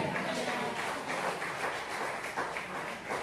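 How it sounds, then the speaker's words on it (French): Church congregation clapping during a French-language service, a continuous wash of hand claps from many people, fairly loud and even throughout. "Applaudissez encore Jésus, alléluia"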